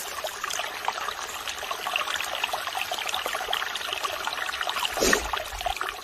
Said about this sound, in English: I love the sound